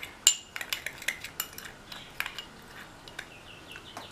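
Fried banana chips are tossed with chilli powder and salt in a metal bowl, giving a series of light, close clinks and crisp rattles in irregular bursts.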